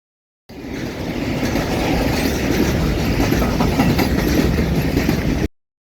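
A Transagent Rail class 182 locomotive, number 182 533, hauls a container train through Slavonski Brod, passing close by with steady loud rolling rumble and rhythmic clickety-clack of wheels over rail joints, fading in and cutting off abruptly.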